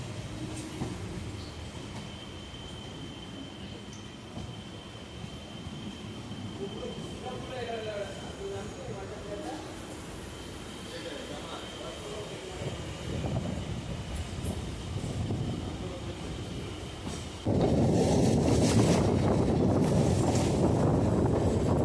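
A Majerhat to Barasat local train rumbles steadily along the track near Dum Dum Cantonment, continuous clatter and hum with scattered voices, growing louder and harsher toward the end.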